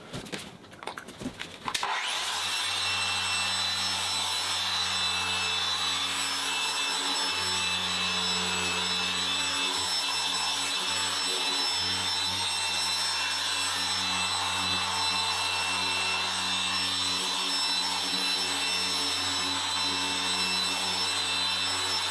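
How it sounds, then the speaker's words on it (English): A small machine polisher works the inner barrels of refurbished Ford Focus RS wheels, giving a steady, loud whirring drone with a rubbing, abrasive texture that starts abruptly after a brief clatter and runs unbroken to the end. "After a thorough working in for the backs of the wheels using the smaller machine polisher"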